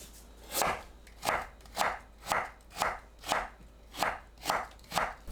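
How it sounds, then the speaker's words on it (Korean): A knife julienning radish taps on a cutting board in an even rhythm, about nine crisp, close strikes at a steady pace over a quiet room. "무를 채 썰어 주세요."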